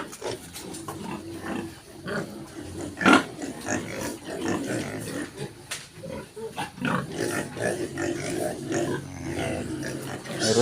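Several pigs, including sows, grunt and squeal close by in a piggery in an irregular chorus, with louder bursts of squealing amid continual snuffling and grunting.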